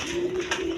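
King pigeons, a big-size breed, give a low steady coo in a loft full of birds with eggs and chicks. The coo is close and continuous, with a soft roomy hiss of birds behind it.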